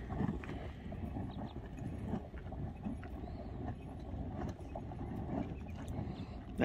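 Hot spring bubbling and percolating at Yellowstone's geyser basin, a steady close churning gurgle with scattered pops and wind noise, no talk.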